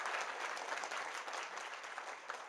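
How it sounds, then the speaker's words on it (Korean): Warm applause from a talk-concert audience at an event marking the 2016 world records congress, a steady wash of many hands clapping at moderate distance for a couple of seconds. "큰 박수 한번 보내주시죠."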